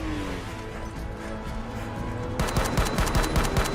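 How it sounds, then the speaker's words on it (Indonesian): Loud rapid gunfire at a castle bursts out over a rumbling background, a fast volley of sharp cracks in the final second and a half. "Maisie segera membawa Joe pergi dari kastil sambil dihujani tembakan oleh Max."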